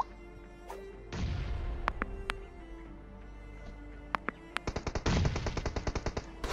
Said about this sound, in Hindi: मेरा टीममेट उन पे राइट से फायरिंग कर रहा था और इसके बाद मैं भी एक ग्रेनेड करता हूँ।